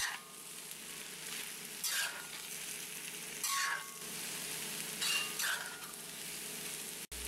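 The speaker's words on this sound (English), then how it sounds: "we add the garlic after several minutes, along with some salt, pepper, and any other spices you may want" Garlic with salt and pepper sizzles in a hot wok for a stir fry hash, a steady frying hiss broken by several bursts of stirring and scraping, with no talking.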